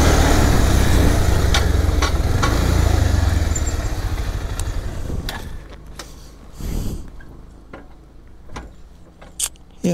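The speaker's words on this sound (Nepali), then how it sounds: "ठडाङ र ठुडुङ गर्न थालिसक्यो के हो यस्तो यो बाइक" A motorcycle on a solo ride from Kathmandu to Okhaldhunga runs loud and close with a loose stand spring, then fades as scattered rattles and clunks break through.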